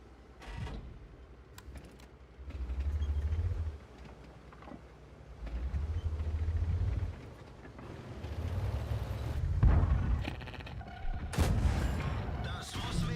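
Tank cannon fire and battle noise from World of Tanks, with several heavy low booming shots spaced across the clip amid engine rumble and background game sounds.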